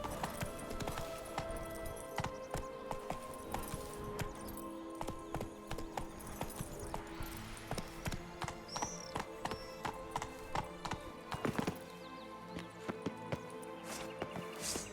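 Horse hooves clip-clopping in Witcher 3, a steady rhythmic trot that quickens toward the end, with a brief whinny partway through.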